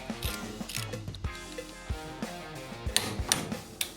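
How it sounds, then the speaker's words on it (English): A torque wrench with a 1-inch socket tightening a motorcycle axle nut to 60 foot-pounds on a springer front end, giving close, quiet rhythmic ratchet clicks in a steady series of sharp ticks. "Set your torque wrench to 60 foot-pounds."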